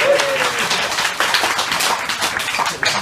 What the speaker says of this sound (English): Round of applause for that man.